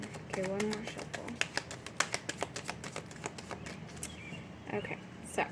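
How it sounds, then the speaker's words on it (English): Oracle cards riffled and shuffled as a deck, a run of crisp snapping clicks and rustling flicks at close range, with a voice talking faintly in the background. "one more shuffle"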